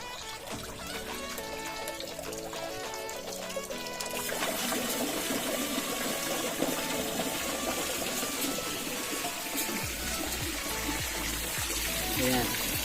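Water from a pump pours into a backyard concrete fish pond, producing a steady splashing trickle that grows fuller and louder partway through and continues without a break.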